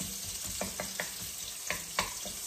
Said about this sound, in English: We got some garlic and we got some onion. We're gonna sizzle it in here